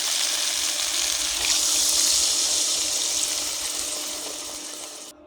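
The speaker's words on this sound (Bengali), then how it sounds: "কড়াইতে জল দিয়ে দেবো" Water pours steadily into a wok for hilsa fish head curry, a loud continuous splashing rush that eases off slightly before stopping abruptly near the end.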